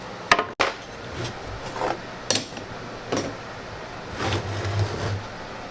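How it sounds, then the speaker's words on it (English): Intermittent scraping strokes of sandpaper on wooden edges and dowels, a few separate passes with pauses between, close by and fairly quiet. "We're sanding the edges and making everything smooth and pretty."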